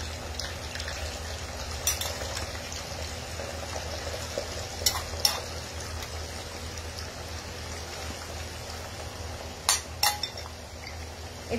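Food fries in a pan on an induction cooktop with a steady, soft sizzle, broken now and then by sharp clinks from a utensil.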